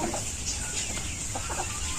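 Free-range native chickens kept at home cluck softly and repeatedly in a steady, fairly quiet background wash, with short scattered calls overlapping and no talking.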